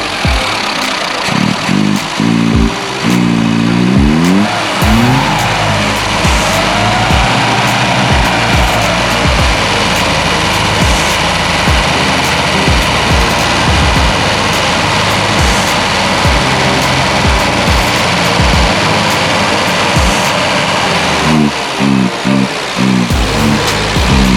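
A classic Mini Clubman Estate engine runs on a newly fitted mechanical fuel pump, idling loudly up close with a rough, uneven rumble and a few revs, with no talking.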